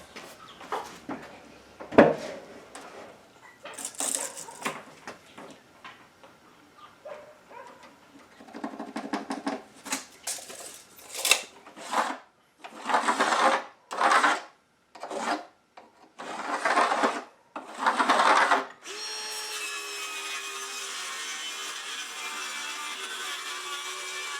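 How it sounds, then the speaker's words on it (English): A piece of plywood is cut with a saw in repeated rasping strokes that get louder and more regular partway through. A steady mechanical hum takes over at the end. "I'm going to cut out a piece of plywood to cover that over"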